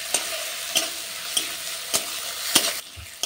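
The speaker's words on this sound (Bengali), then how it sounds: "এরপর আমি এর মধ্যে দিয়ে দিচ্ছি আদা বাটা আর দিয়ে দিচ্ছি রসুন বাটা, দিয়ে ভালো করে আবারও আমি একটু নাড়িয়ে নেব।" Ginger and garlic paste frying in a pan while being stirred, a gentle continuous sizzle punctuated by regular sharp spatula strikes roughly every half second, close and moderately quiet with no speech.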